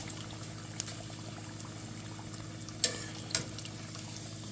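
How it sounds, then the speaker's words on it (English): Corned beef egg rolls deep-frying in oil make a soft, continuous bubbling sizzle, with a few clicks and taps as they are turned in the pan. "you want deep enough oil so you can spin them around like this so they're getting fried all the way around"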